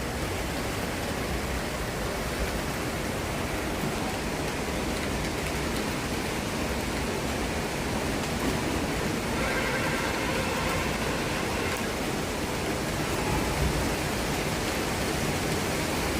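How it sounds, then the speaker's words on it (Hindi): Heavy rain falls in a constant, loud, broadband roar that stays unbroken and even for the whole stretch, with no voices heard. "बहुत तेज हो गई है बारिश"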